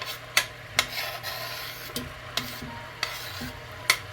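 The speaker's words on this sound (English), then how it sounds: "I'm going to go ahead and add my onions" Large sweet onions, sliced and added to a hot pan on medium-high heat, crackle under a steady sizzle while a wooden utensil scrapes and taps the pan in sharp strokes roughly every half second.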